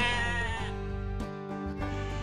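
Sheep bleating: a single long, wavering bleat, loud and close, with a rich buzzy tone that shifts pitch partway through.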